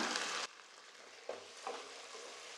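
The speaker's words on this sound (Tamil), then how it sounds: "இப்போ தக்காளி நல்லா வதங்கிருச்சுங்க" Tomato frying with ginger garlic paste in a pan, a steady close sizzle with brief stirring scrapes and clatters over the hiss, no voices.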